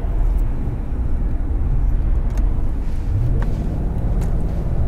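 A Mercedes 560SEC with its 5.5-litre V8 accelerating, heard from inside as a steady, loud, dense engine and road roar that holds without a break, with no voices.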